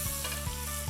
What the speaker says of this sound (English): I'm pan-frying these separately to the beef so they remain crisp and have a different texture.